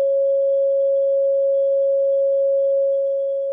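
A pure, steady electronic tone plays continuously from a speaker in a sound-wave propagation demonstration, loud and unwavering, fading only slightly at the end, with no voices.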